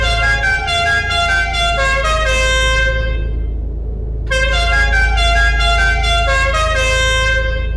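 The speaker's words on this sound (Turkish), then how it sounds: "şöyle güzel bir baba korna çet" A loud, sustained truck air horn sounds in Euro Truck Simulator 2, blaring in two long multi-tone blasts separated by a short pause over a low engine drone.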